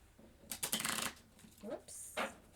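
Tarot cards are shuffled in quick riffling bursts: a longer flurry of papery slaps, followed by a few shorter shuffles. The sound is close and fairly quiet, with soft voice sounds in between.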